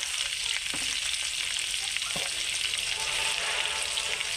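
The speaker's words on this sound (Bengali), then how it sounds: "তো এবার ভালো করে নেড়ে চেড়ে মিক্স করে নেব" Fish frying in mustard oil with salt, turmeric and cumin powder crackles in a steady, close sizzle while a spatula scrapes and stirs through the pan a couple of times.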